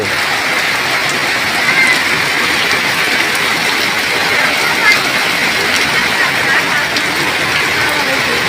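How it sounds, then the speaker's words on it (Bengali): Heavy downpour pours onto a flooding road in a loud, continuous broadband roar that holds level from start to finish. "আসলে প্রচুর পরিমাণে বৃষ্টি, দেখতে পাচ্ছেন সব ডুবে যাচ্ছে। এই রাস্তা তলিয়ে গেল।"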